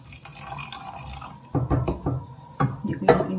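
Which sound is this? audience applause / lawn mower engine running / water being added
water being added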